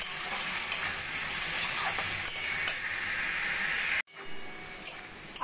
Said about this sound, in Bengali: দিয়ে ভালো করে আলু ভাজা ভাজা করে নেব।